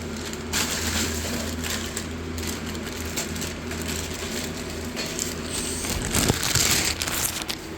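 Packaging torn and crinkled open to unwrap a baby-blue part: steady close crackling and rustling throughout, with a brief sharper rip near the end, no talking.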